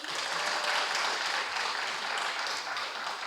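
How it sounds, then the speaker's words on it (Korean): An indoor audience at a Thursday gathering breaks into sustained applause, a dense, steady wash of clapping lasting a few seconds with no voices on top. "진희 언니한테 한 번 더 박수 주세요."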